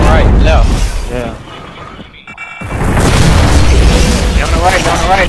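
Frag grenade blast in a Gears of War 3 multiplayer match, a heavy booming burst that drops briefly to near silence before loud game noise resumes, with players talking over it.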